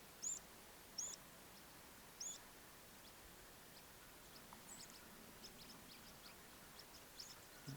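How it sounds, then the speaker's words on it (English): Faint, scattered bird chirps ring out in the open countryside on the Isle of Arran, a few short high calls spaced apart over a soft, quiet outdoor hush. "Just the sound of birds everywhere"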